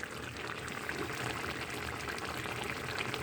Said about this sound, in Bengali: এভাবে আমি এক মিনিটের জন্য ঢেকে দেবো দিয়ে ফুটিয়ে নেব